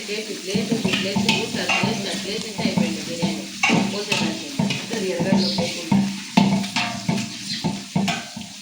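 Cinnamon and cloves frying in oil for chicken biryani, a lively sizzle broken by repeated rhythmic scrapes of a spoon stirring the pan, with a voice talking softly underneath.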